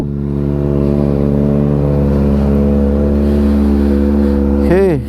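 A Kawasaki Ninja ZX-4RR inline-four engine runs at a steady high idle, a loud, close, even drone held for several seconds before a quick rev rises and falls at the end.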